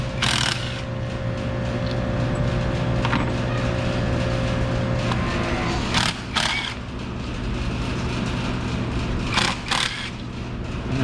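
Mechanical clicking from a ratchet turning a T30 Torx bit on the fuel rail bolts of a Dodge Charger, heard over a steady mechanical hum, with a few sharp, close metallic bursts near the middle and the end.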